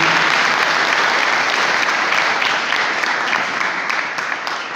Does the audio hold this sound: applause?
yes